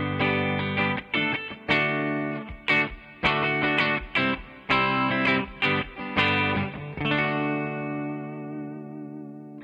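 Electric guitar, a Reverend HPP, played through a Headrush Blues Driver overdrive model with a Princeton reverb amp model, picking a sequence of crunchy sustained notes and chords with a lingering, ringing tail at the end.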